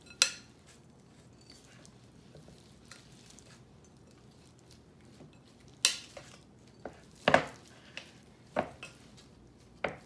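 A wooden spoon folds a loaded tater tot mixture in a bowl. Soft scraping and stirring run underneath a few sharper clacks and knocks against the bowl, scattered irregularly.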